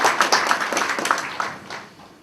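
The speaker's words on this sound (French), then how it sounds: "Merci d'applaudir pour cette performance." A brief patter of audience clapping at an international business forum, close and fairly loud, quickly thinning out and fading within a couple of seconds.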